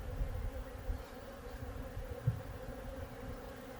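A steady low buzz of honeybees hums around a newly installed hive as the bees are covered up, faint and continuous with a few brief louder passes close by.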